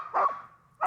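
Husky sled dogs on a tour in Finland give two short barks in quick succession, fairly close and distinct, with no talking.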